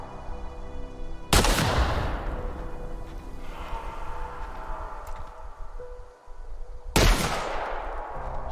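Shotgun blasts in The Outer Worlds video game, two loud booming shots several seconds apart, each with a sharp crack and a long decaying tail over low game ambience.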